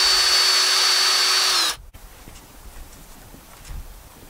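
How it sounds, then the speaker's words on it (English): A power drill spins a 3/32 bit through wood for a hinge pilot hole, a loud steady whine running alone for about a second and a half before stopping abruptly, followed by faint outdoor background. "I'm going to drill a pilot hole first."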